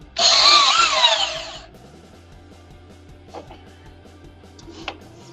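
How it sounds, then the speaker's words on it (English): A Portaband portable bandsaw briefly cuts a small split piece off a wood turning blank, giving one loud, buzzing burst of about a second and a half before dropping to quiet handling noises and faint clicks. "I got a split right there, so I got to cut that little bit off before I try turning. So guys, it's the bandsaw."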